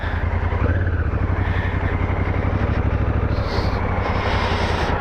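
A Honda Africa Twin motorcycle rides along in its automatic drive mode, its engine producing a smooth, continuous low rumble with wind noise layered over it, steady and close for the whole stretch.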